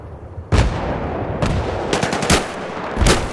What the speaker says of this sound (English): I used my 44 Magnum scope.